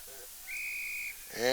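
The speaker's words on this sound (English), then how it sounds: "And we'll get a whistle again here." A referee's whistle at a women's Australian rules football match gives one sustained, fairly loud blast lasting about half a second, followed by a sharp burst of crowd or field noise.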